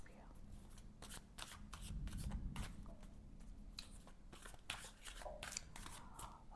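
Tarot cards shuffled by hand during a reading, a quick series of crisp riffling and slapping bursts close by, with soft talk in between.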